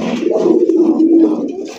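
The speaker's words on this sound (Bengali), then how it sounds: "এবার নরের ডাকটা দেখি" A male Bangladeshi domestic pigeon gives a loud, close, rolling coo that swells and fades over a couple of seconds, with no talking.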